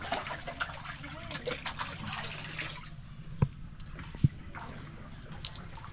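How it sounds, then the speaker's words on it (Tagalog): Water drips from an outdoor tap at a beach in Bolinao: two sharp, separate drops fall about a second apart over a faint wash of trickling water, with soft voices in the background. "May tumutulo rin, oh."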